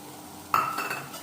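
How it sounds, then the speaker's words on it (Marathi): Small pieces of onion and chili sauté in a pan with a soft background sizzle. Partway through, a sudden metallic clank and scrape of a spatula against the pan cut in, followed by continued stirring. "हे इकडे एका साईडला परतत आहे"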